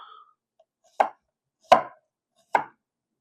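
A knife slices through a whole bulb of garlic in three sharp, separate cuts, each a crisp thud on the board, close and clear with quiet gaps between them.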